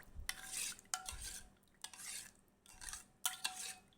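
Pomegranate juice being stirred with sugar, four bursts of swirling liquid with the spoon clinking against the container, quiet and close, with short pauses between strokes.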